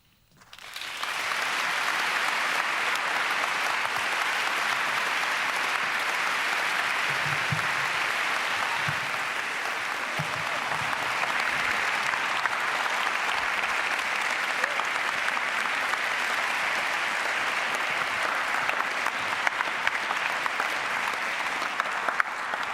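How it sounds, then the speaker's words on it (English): Sustained applause from a church audience after a spoken word performance, steady and full for the whole stretch, with a few cheers and voices mixed in. "Can we clap it up one more time for Kiki, y'all?"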